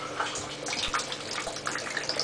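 Steady rushing water from a reverse osmosis system with a booster pump splashing into a partly filled 44-gallon tub, a continuous bright hiss with small gurgles throughout.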